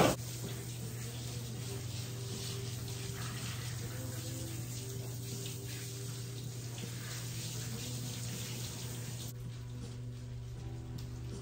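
Water running from a tap while a Shih Tzu is bathed during grooming, a steady low rushing stream that continues evenly throughout, faint and without talk.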